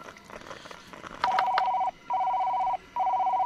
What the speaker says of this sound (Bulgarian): Някой ми звъни.